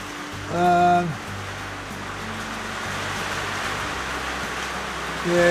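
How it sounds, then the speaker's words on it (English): Steady hiss of rain falling outside a woodworking workshop at night, a soft broadband wash that persists throughout, with someone talking briefly at the start and end. "You can probably hear the rain will be drowning me out. It's starting to come down now."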